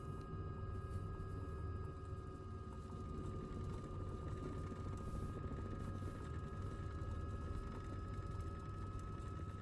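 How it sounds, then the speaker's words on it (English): Low rotor RPM warning from a helicopter in Flight Simulator 2024, sounding as a steady, continuous tone that holds through the whole stretch, layered over constant rotor and engine drone at moderate level, with no talking. "it is my low rotor RPM warning"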